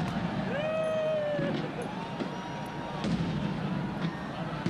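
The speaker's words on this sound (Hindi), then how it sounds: "रावलपिंडी इस्लामाबाद में इस वक्त साले 9 का इस्तकबाल किया जा रहा है और जबरदस्त आतिशबाजी का मुजाहरा किया गया है" New Year fireworks over Rawalpindi and Islamabad, a steady crackling bed of distant bursts with faint whistling rockets rising above a crowd, people talking throughout.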